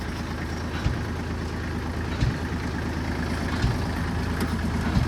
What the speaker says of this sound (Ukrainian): Завівся трактор дуже легко